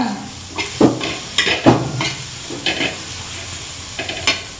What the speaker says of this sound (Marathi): मसाला भाजते मी